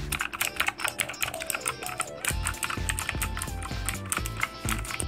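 Rapid typing on a Motospeed CK104 mechanical keyboard with blue switches, a dense stream of loud, crisp clicks and clacks heard up close, with no talking.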